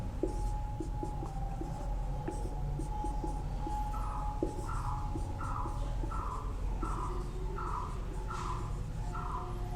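A pen writes by hand on paper during a Hindi maths lesson on cubes, giving steady scratchy strokes in a repeating rhythm over a constant background hum, with no talking.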